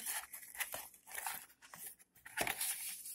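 Crisp crinkling and rustling of a thin plastic storage bag from an MSI Cubi 2 mini PC box, handled close up in irregular bursts, fairly quiet with no talking.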